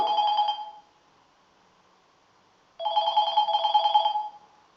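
A telephone rings loudly twice, each bright electronic ring lasting about a second, separated by a pause, close by with no talking.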